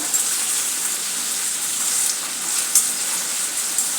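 Vegetables for kurma bhaji frying in a pan, a steady bright sizzle with continuous crackling and hiss, close and fairly loud, with no talk over it.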